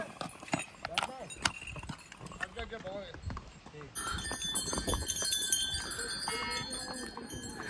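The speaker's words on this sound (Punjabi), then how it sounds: "ਘੋੜਿਆਂ ਦੀਆਂ ਟਾਪਾਂ" Horse hooves clip-clop on a mountain trail in Gulmarg, Kashmir, a steady run of nearby hoofbeats with people talking throughout.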